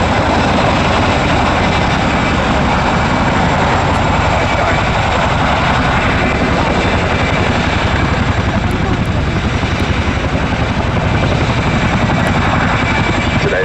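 Royal Air Force Boeing Chinook HC.6 twin-rotor helicopter at an air show, a loud, steady rotor thrum and turbine roar that fills the whole clip without letting up, with a commentator talking over it.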